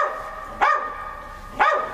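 A dog barks twice, about a second apart, each bark loud and close with a sharp onset and a tonal ring, with quiet background between them.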